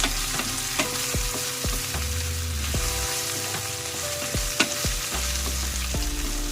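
Adobong sitaw with pork liempo fries steadily in a pan, a close crackling sizzle with repeated low clanks and scrapes as a spatula stirs the meat and beans, no voices.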